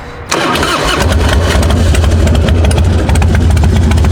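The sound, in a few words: 2003 Harley-Davidson Fat Boy motorcycle engine starting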